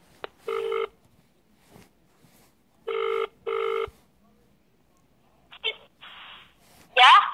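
A telephone rings in short electronic bursts, a single ring then a double ring, with quiet pauses between and a few faint voices near the end.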